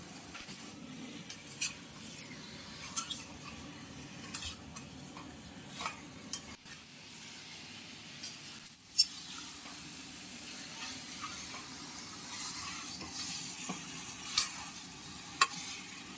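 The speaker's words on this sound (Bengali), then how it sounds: "এবার ধুয়ে রাখা চিকেনটা কষাবো" Washed chicken being sautéed in spice masala, a quiet, low sizzle with scattered scraping stirs and occasional sharp clicks of a utensil against the pan.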